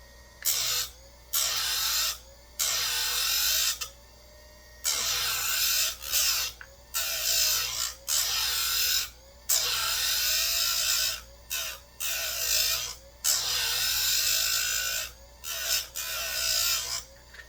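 Close, repeated rasping file strokes sharpen a Husqvarna 357XP chainsaw chain, tooth after tooth, in bursts of a second or two separated by brief pauses over a steady rhythm.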